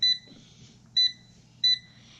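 An air fryer that has just been plugged in gives three short, evenly spaced electronic beeps, clear and fairly close, over a quiet background hum.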